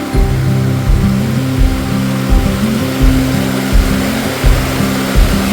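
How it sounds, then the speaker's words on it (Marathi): A steady roar of falling water fills the clip, loud and continuous, with a low rumbling pulse repeating underneath. "मस्त नजारा वाटतो त्याचं पाणी पडताना बघायला भारी असं"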